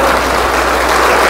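Farmers gathered at a co-operative meeting applaud in unison, producing a thick, sustained wash of clapping that stays loud and even throughout.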